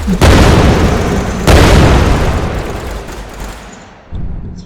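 A Vulcan cannon on a space fighter in an Unreal game fires continuously as a dense, loud booming roar of rapid shots, with a fresh surge of fire midway and a final burst after a brief drop.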